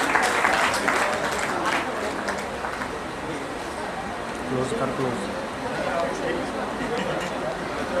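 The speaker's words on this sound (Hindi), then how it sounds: "जोरदार तालियों से एक बार स्वागत हो" An audience at a cultural anniversary event of a Uttarakhand film and theatre institute claps loudly to welcome a guest onto the stage, a busy wash of applause that stays strong throughout with voices mixed in.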